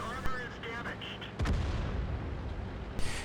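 A VK 16.02 light tank's autocannon fires in World of Tanks on the Sand River map: a sharp shot, then a heavy booming report over a continuous low rumble of battle ambience, with a later burst near the end.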